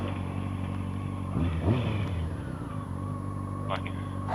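A 2009 Yamaha WR250F dirt bike engine runs nearby with a steady, buzzy idle that swells slightly in pitch, and a voice speaks briefly over it.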